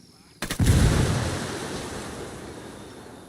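Mortar rounds landing in a military shooter campaign: a sharp close boom followed by a second heavy blast, then a long rumbling decay with wind-like wash fading over several seconds.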